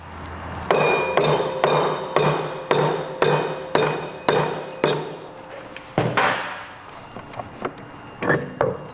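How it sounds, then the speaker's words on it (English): Mallet blows tapping the rear wheel of a Piaggio BV350 scooter off its axle, about a dozen sharp metallic knocks at a steady rhythm, then a few looser irregular taps as the wheel frees, close and loud. "you're going to want to get a mallet and tap the wheel off"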